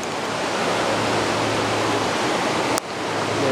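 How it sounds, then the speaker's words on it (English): A rain-swollen river runs high and fast outdoors near Portland, Oregon, giving a loud, unbroken roar of broadband rushing water close by, with a brief click partway through. "so we have a higher than normal river"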